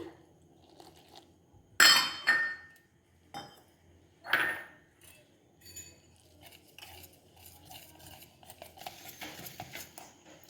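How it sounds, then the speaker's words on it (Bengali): Gram flour and rice flour being stirred with water in a bowl, heard as a few close, crisp scraping and clinking strokes followed by softer intermittent mixing noises. "এবার এর মধ্যে বেসন আর চালের গুঁড়িটা ভালো করে গুলে নেব জল দিয়ে দিচ্ছি"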